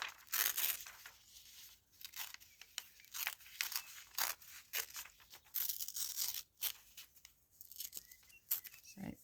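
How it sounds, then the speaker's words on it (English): Pages being torn from a dictionary, with repeated sharp ripping and crinkling strokes in short bursts, fairly close and fairly quiet, and brief pauses between the tears. "So I'm ripping out two specific definitions."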